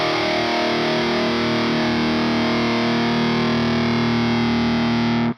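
Heavily distorted electric guitar driven through a Maxon Overdrive into a Celestion Creamback G12H speaker, a thick sustained chord ringing loud and steady for several seconds before cutting off abruptly, no voices.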